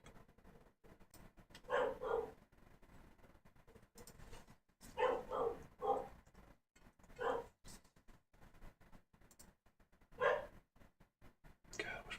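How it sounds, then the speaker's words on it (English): Suburban dog barking somewhere nearby, several short bursts of barks and yips spread out over a quiet room tone, moderately faint and intermittent. "God, I wish my dog would stop barking."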